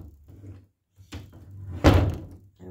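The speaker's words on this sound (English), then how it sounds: "We're gonna lock this door because it doesn't have an exterior lock" An interior house door is pushed shut with a solid thunk followed by a brief rattle of the latch or lock, close by, with faint movement noises around it and no talking.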